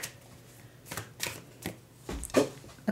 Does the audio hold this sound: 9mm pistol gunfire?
no